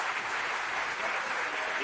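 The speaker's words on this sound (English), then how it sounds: "A loud round of applause," Students applauding at a medical college event in Mumbai, a loud, sustained wash of many hands clapping evenly throughout.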